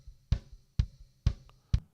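Four punchy kick-in drum hits from a Yosh's Drum Warehouse sample pack, evenly spaced about half a second apart, each with a deep low thump and a short bright click on the attack, heard alone without talk.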